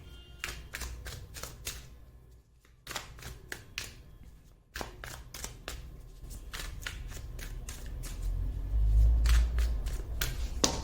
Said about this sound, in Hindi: मैं कार्ड्स आपके सामने ही शफल करूंगी